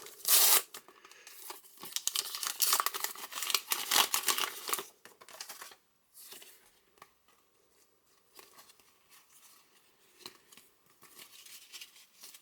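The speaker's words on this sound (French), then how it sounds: "je vous propose d'ouvrir les pochettes pour compléter la vidéo" Panini Adrenalyn XL FIFA World Cup 2026 card packets are ripped open up close: a loud initial tear, then a stretch of busy foil crinkling and rustling that fades to quieter, sporadic handling noises.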